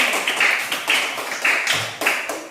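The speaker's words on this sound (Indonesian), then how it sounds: "Tepuk tangan dulu untuk kelompok 1." Classroom pupils clap for group 1 in a short, rhythmic burst of claps in repeated clusters, fairly close and loud, with no talking.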